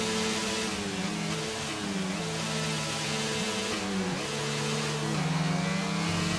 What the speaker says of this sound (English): could you potentially stop revving your engine and give me like a heavy bang through?